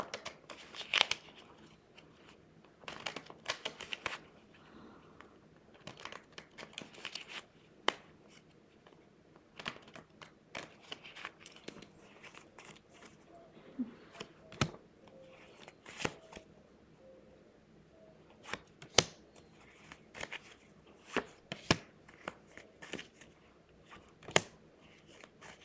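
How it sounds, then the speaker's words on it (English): A deck of cards is ruffle shuffled again and again, sharp riffling snaps and clicks coming in irregular bursts across a quiet room, close up, with no voices. "Ruffle shuffle these."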